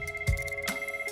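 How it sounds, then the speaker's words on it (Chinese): A telephone rings alone with a steady electronic trill, a short burst heard up close. "个电话佢一响嘅时候"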